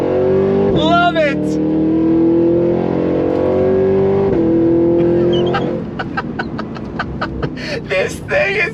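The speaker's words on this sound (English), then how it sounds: "We're gonna start off with launch control. I got it in V mode. Hold down the brake with the left foot, right foot on throttle." A supercharged Cadillac Escalade-V leaves the line on launch control in V mode, its engine droning and rising through the run with a smooth shift, loud and close, a voice speaking over it near the end.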